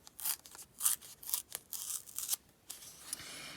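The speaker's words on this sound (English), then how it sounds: "So the slower that you tear it, the larger the tear line will be." Paper is torn slowly by hand for a card's torn-edge effect, giving a series of close, crisp ripping bursts with short pauses between them and no speech.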